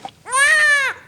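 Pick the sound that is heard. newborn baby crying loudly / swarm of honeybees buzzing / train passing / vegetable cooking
newborn baby crying loudly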